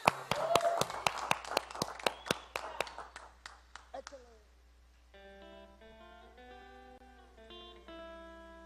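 A small audience claps to welcome a band, a sparse run of sharp, distinct claps that thins out after a few seconds before soft music begins.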